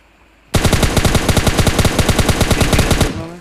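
Sustained automatic rifle fire in PUBG Mobile Lite, likely an M762, cracks out as a rapid, steady burst of about twenty-five loud close shots lasting nearly three seconds before cutting off into a brief tail.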